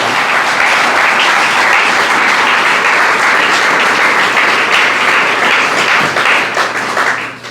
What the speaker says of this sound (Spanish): Dale un fuerte aplauso a Dios en esta hora.